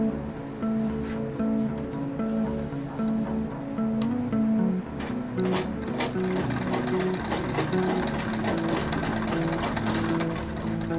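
Sewing machine running continuously while stitching the side of a fabric bag, a steady close buzzing drone with a faint voice murmuring now and then beneath it.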